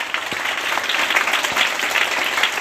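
An audience at a motivational speech gives a burst of loud, dense clapping that carries on steadily throughout, with a faint voice briefly audible beneath it.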